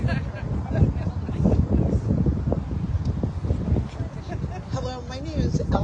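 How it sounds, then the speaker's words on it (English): Strong outdoor wind buffets the microphone in a steady, loud low rumble that runs the whole time, with voices mixed into the roar. "so windy."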